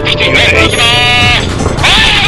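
A loud, close goat bleat wavers in drawn-out cries over a noisy background, with a voice talking alongside.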